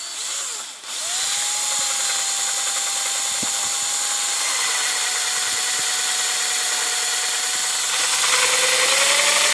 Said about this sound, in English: Take a 1/4-inch drill bit and don't plunge it in.